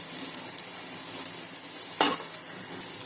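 Clam meat fries in a pan as masala spices go in, giving a steady, bright sizzle throughout, broken once by a single sharp clink of a utensil against the pan.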